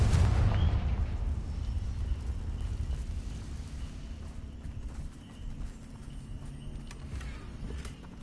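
A Confringo blasting spell goes off in a video game, a loud burst at the start that decays into a long rumbling tail with scattered debris and faint clatter.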